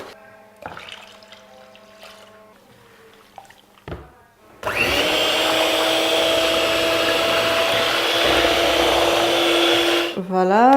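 Mixer blending shea butter face and body lotion in a batch mixer rated up to 90 litres: after a quieter start with clinks, a loud steady motor whir with a tonal hum runs for several seconds, then winds down.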